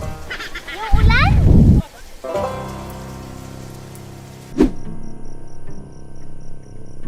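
Rain pattering on a tent, a steady wash of drops under a person's voice at the start, then a single sharp knock partway through before the rain carries on.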